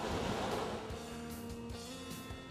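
Ocean surf rushes onto the shore during surf perch fishing, a soft wash swelling and then easing into a low, distant background roar with some wind.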